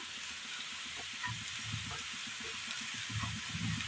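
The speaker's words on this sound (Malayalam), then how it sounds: "ഇതിലേക്ക് മഞ്ഞൾപ്പൊടി, മുളക് പൊടി, ഒരല്പം മീറ്റ് മസാല നന്നായി ഒന്ന് ഇളക്കി കൊടുക്കാം" Turmeric, chili powder and meat masala fry in oil in a pan, stirred into a Kerala jackfruit-seed dish: a continuous bright sizzle with soft scraping and clatter of stirring at irregular moments, close by and without voices.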